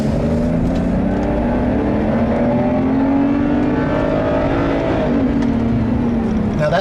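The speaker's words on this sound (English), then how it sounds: "Now that 3-liter straight 6 is a gem." A 3-liter straight-six engine in a 2012 BMW 128i drones steadily and loudly, its pitch climbing smoothly as it accelerates, with constant road and wind noise underneath.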